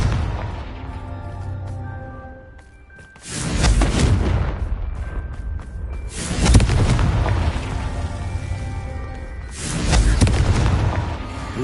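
Fiery Confringo blasting spells explode in Hogwarts Legacy, three loud booming bursts a few seconds apart, each with a rumbling tail over a bed of game ambience and music.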